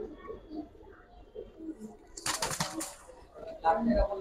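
Restless Giribaz pigeons shuffle and flap in a burst of wingbeats midway, followed by a second flurry near the end, with soft movement sounds between.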